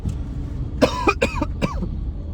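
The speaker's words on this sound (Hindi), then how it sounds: "एक खांसी मुझे स्मेल की वजह से हो रही है" A short burst of three or four dry coughs, close and fairly loud, over a steady low background rumble.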